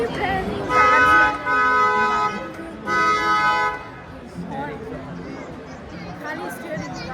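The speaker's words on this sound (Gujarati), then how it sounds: "ખાલી સ્ટીયરિંગ હોર્ન" Car horns honk at an auto expo, two loud sustained blasts with a pause between them, over a steady crowd hubbub that carries on after the horns stop.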